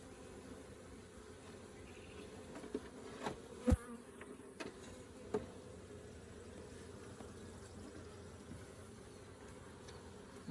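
A honey bee swarm hums on a hive frame, a soft continuous buzz close by, broken by a few sharp clicks and knocks from handling the frame.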